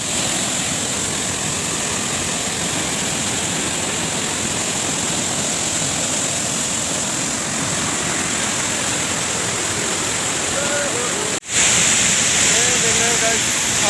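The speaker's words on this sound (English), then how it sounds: "yeah, Shallang waterfall." Shallang waterfall in Meghalaya roars as a steady, loud broadband wash throughout, with faint voices briefly audible near the end.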